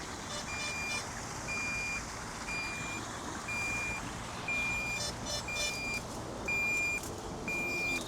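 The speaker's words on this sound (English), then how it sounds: "you can use the start the beeping and flashing mode, which will make the drone do just that" A DJI Neo drone in locator mode emits a regular series of short, evenly spaced high beeps, about one per second, faint over steady background noise.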